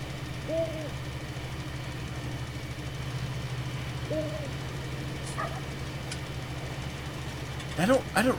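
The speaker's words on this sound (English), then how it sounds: "I don't remember hearing the owls in the background." Owls hooting in the Southern Farming video game, two distinct hoots several seconds apart over a steady low engine hum, faint and distant, with a few other brief chirping sounds near the end.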